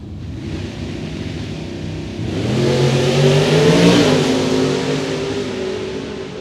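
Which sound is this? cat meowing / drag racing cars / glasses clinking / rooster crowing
drag racing cars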